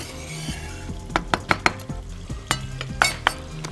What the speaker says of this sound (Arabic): طمن على البتنجان، اديله تقليبه كده.